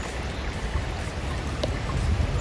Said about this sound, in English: It crosses this little stream